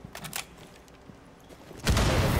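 Gunfire in a ranked match of the video game Rainbow Six Siege: a few quiet shots early on, then a louder close burst of fire near the end.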